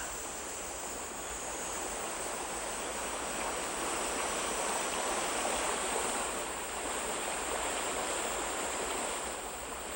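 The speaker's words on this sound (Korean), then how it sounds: "직서폭포를 시작으로 9개의 계곡이 그림처럼 이어진 내변산의 풍치는 지금도 고요한 깨달음의 경지를 전하고 있다." A waterfall and valley streams in the Naebyeonsan mountains of the Byeonsan Peninsula make a continuous, even rushing roar of falling and flowing water, steady throughout with no voices.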